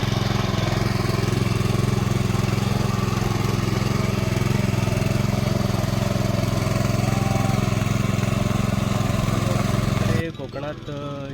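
A tractor works a farm field in the Konkan region, its engine droning loud and steady at close range for about ten seconds before cutting to a quieter scene.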